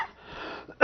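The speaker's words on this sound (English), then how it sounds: "my cough has nothing to do with it" A single short, sharp cough at the end of a brief moment of quiet breathing, close and fairly loud.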